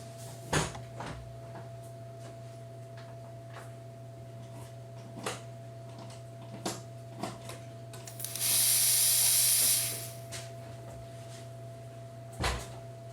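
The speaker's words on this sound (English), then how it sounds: "We got a nice spray in here." A loud, steady hiss of pressurized fuel spraying from a fuel line fitting on a 1994 Saab 9000 for about two seconds, set among scattered clicks and knocks over a low hum.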